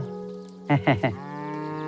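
A cow on a village farm lets out a loud nearby moo in three quick pulsing bursts over a steady low hum, with no voices.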